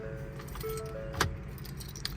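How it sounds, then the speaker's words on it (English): Two sets of keys for a 2018 Ford F550 service truck jangle in a quiet room, with one brief metallic rattle near the middle and a faint clink shortly after, over low background hum. "2 sets of keys for the truck, as well as keys for the service body as well"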